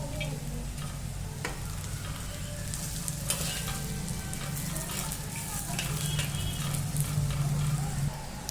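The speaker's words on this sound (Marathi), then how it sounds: "आधी आपण काजू टाकून घेऊ आणि ते भाजून घेऊ" Cashews and onion roasting in a pan for a Maharashtrian paneer masala, giving a steady close sizzle and frying hiss with occasional stirring scrapes, alone without talk.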